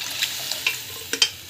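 Vegetables such as carrot and beans being stirred and sautéed in a pan for rava kichadi, with a steady close sizzle broken by several sharp scraping stir strokes.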